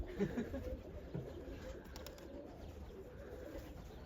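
Pigeons cooing softly in a loft, low muffled calls repeating over a quiet rumbling background, faint and somewhat distant.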